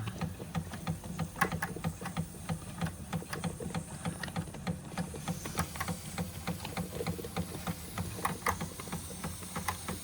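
A Wilesco D24 toy steam engine running under gas-fired steam pressure, giving a steady close mechanical chuffing and clicking rhythm with a faint continuous hiss, and no talk.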